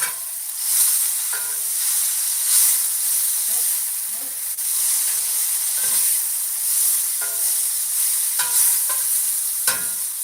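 Food sizzles steadily in hot bacon drippings in a pan, a loud continuous hiss broken by brief stirring scrapes and spatters, with no talking.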